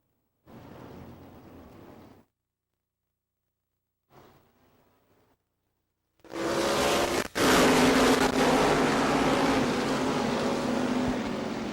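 Race cars in a New Smyrna Sunbelt Series race roar loudly past, a broad continuous engine drone filling the second half after two shorter, quieter bursts of engine noise separated by silence.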